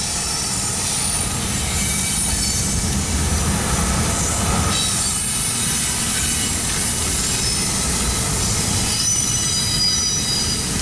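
A Pacer Stack Train well car rolls past with loud, continuous, high-pitched wheel squeal over a heavy rail rumble, close and sustained throughout with no voices.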